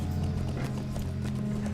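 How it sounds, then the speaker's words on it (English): Horse hooves clip-clop steadily while riding in the game Lord of the Rings Online, a quick even rhythm over a low humming drone. "Wish I had a slightly faster horse"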